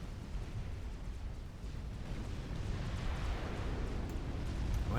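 Tactical missile strikes in the Supreme Commander strategy game make a continuous, muffled rumble of explosions that builds gradually, with no distinct individual blasts.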